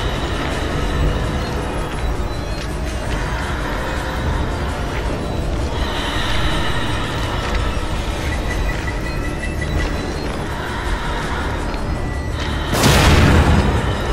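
Bomb blast in the horror video game The Evil Within, a loud broadband burst near the end following a long stretch of dense, rumbling in-game ambience.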